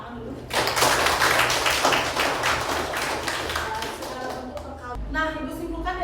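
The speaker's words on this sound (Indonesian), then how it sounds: "Tepuk tangan dulu" Classroom applause from students in a religious education lesson, a burst of many hands clapping that starts suddenly and carries on steadily for several seconds, with some voices mixed in and a teacher's voice at the end.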